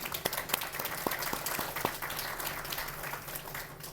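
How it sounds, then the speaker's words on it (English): A crowd applauds with steady, dense clapping throughout, a few sharper individual claps standing out near the start. "a round of applause to Ramona Captain of Carth BC."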